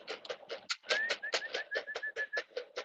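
Pigeons in a loft coo and flutter close by, a rapid series of soft rhythmic bursts with a thin whistle running through the middle, loud and clear with no talk.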